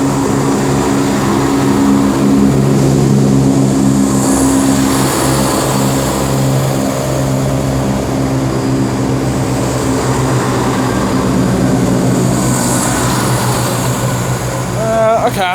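Chiltern Railways diesel multiple units, three coupled sets, pull out of Oxford station on a London Marylebone service with a loud, sustained engine drone and throb that builds and holds for the whole stretch.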